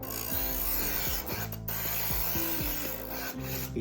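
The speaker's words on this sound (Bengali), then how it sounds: "পাথর দুটো ঘুরছে এবার পাথর দুটো এখানে ঘষে এটাকে মানে দুটো সাইডটাকে শার্প করে দিচ্ছে" A small electric knife sharpener with two rotating stones grinds and whirs continuously, a steady mechanical hum overlaid with scraping rubs and a couple of sharper clicks, close and fairly loud.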